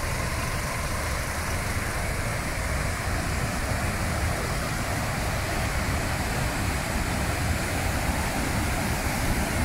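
The Tano waterfall at Kawkareik, Myanmar, gives a steady, dense roar of falling water, loud and unbroken throughout, with a deep rumbling low end and no voices.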